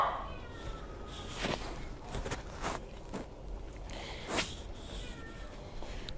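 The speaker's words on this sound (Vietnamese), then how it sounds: "Rất là nhiều mèo luôn." Cats meow in an animal shelter, several short faint calls spaced across the moment over quiet background shuffling.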